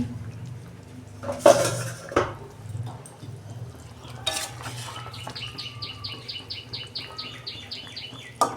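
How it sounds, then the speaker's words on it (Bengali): A metal lid is lifted off a cooking pot of potatoes and kohlrabi simmering for a fish curry with tomato. A few sharp clanks come first, then a soft steady sizzle and rhythmic bubbling ticks up close. "ঢাকনা খুলছি"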